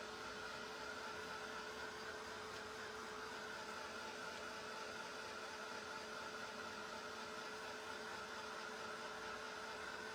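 A hair dryer blows steadily and close by, drying the back of a painted bamboo cutting board in a continuous whooshing hum with no breaks.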